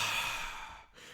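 A soft breath exhale opens with a sharp, breathy burst that quickly fades, close to the microphone with nothing else heard.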